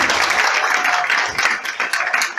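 A short burst of clapping from a small crowd at a business meeting, steady and fairly close, with no voices over it.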